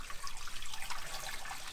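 Water pours from a watering can into a motorhome waste tank, a steady close splashing and gurgling rush that carries on throughout with no talk.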